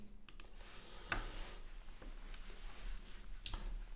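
Mouse clicks at a computer while buying cryptocurrency on a trading site: a few faint, sharp, sparse clicks over a quiet room hum.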